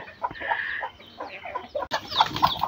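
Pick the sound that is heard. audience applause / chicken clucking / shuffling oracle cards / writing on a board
chicken clucking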